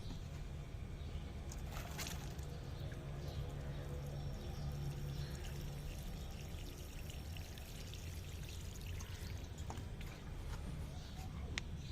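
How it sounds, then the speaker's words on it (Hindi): Water poured from a shower sprayer onto soil sown with green cardamom seeds, at home: a soft, steady hiss of spray running throughout, fairly faint, with a few light clinks. "पानी हम वही देंगे ब्रिक शॉवर की मदद से"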